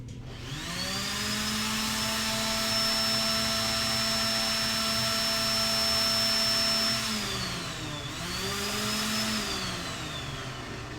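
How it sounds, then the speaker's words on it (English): A random orbital sander runs during a desktop PC modding job, a steady close motor whine that sags in pitch under load near the end, briefly drops, then picks back up. "you can see I'm not getting it flat at all because it's a random orbital sander"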